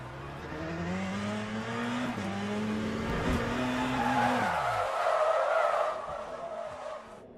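A race car in the sim game Le Mans Ultimate spins out, its tyres skidding and squealing in a long, steady screech over the engine drone, close and loud, fading near the end.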